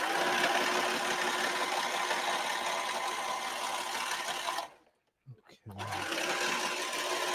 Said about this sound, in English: Oh man, the serger is just undefeated.